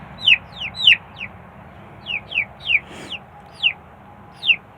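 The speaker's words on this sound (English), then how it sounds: "You're really chirping really loudly, and I don't know why." A chicken calls loudly in a string of sharp, rising chirps, about ten bursts arriving in uneven clusters, close to the microphone over a quiet background.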